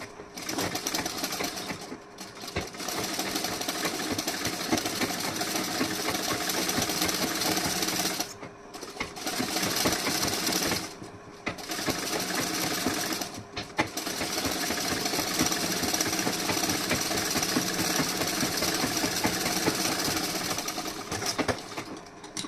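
A sewing machine runs in long, steady bursts of rapid stitching with a few short pauses, sewing a strip along a decorative neckline. The motor hum stays loud and close, and no one speaks.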